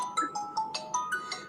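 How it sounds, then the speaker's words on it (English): A phone ringtone from an incoming call plays a quick, bright chiming pattern of repeated short electronic tones, steady and fairly close, with no talk over it. "I'm getting call on my phone."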